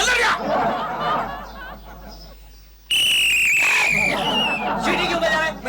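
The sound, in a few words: whistle being blown by a watchman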